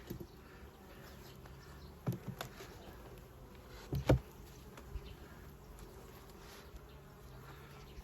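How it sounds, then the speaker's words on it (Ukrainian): Faint, steady buzzing of honeybees at the hive hums through the whole stretch, with a few soft thumps and knocks near the middle. "Бджоли багато."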